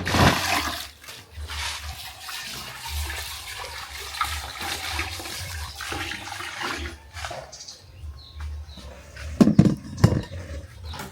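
Water being poured away from Nigerian fufu dough, with uneven gushing and splashing that swells and fades, close by, ending in a few louder sloshing bursts.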